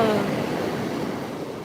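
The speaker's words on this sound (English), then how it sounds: "The waves is like, hush, child." Ocean waves breaking on the shore, heard up close as a continuous loud rushing wash with wind buffeting the microphone.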